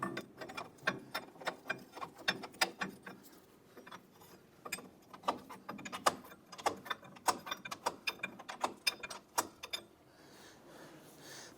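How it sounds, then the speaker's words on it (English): A wrench works a nut loose on a 1993-1997 Ford Ranger radius arm, giving rapid uneven metallic ratchet clicks close by that stop near the end. "So we're going to continue to loosen this nut and take that right off."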